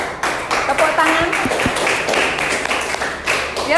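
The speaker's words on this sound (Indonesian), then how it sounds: "Tepuk tangan." An audience applauds at a school group presentation, a dense burst of hand clapping with a few sharp claps standing out, loud and close, while voices chatter underneath.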